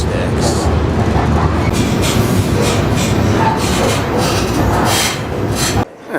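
A freight train rides on rails near Jacksonville to Birmingham, heard from aboard as a loud continuous rumble with rattling and rhythmic clatter that cuts off abruptly near the end.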